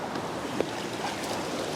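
Surf rolling and breaking along an open beach where anglers cast from the shoreline, a steady broadband wash with a light wind rush and no voices.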